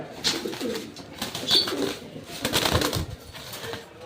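Pigeons coo softly and repeatedly at close range, low murmuring calls overlapping in a relaxed, uneven rhythm.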